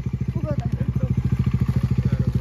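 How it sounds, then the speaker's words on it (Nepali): Nearby motorcycle engine chugging in a steady fast rhythmic pulse as the bike rides off, loud and continuous with faint clatter on top. "भर्खर बाइक कुदाउनु थाल्यो"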